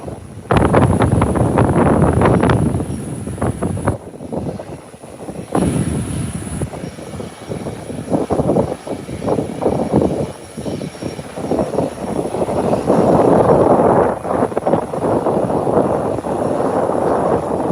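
Aircraft engine roaring near an airport as a plane holds at the holding point, a loud, steady broadband drone with wind buffeting the microphone throughout.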